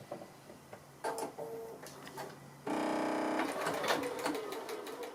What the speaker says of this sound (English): So I'll just get started on the sewing